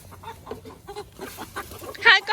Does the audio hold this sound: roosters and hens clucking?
yes